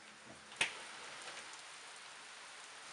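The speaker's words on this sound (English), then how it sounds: "sure is raining a lot" Steady, soft rain patters on a surface with a constant hiss, broken by one brief sharp tap near the start.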